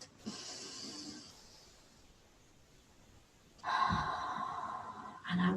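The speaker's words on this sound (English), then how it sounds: "I want you to keep breathing in and out." Slow, deep breathing close to the microphone: a long breath in, a quiet pause, then a long audible breath out, with another breath starting right at the end.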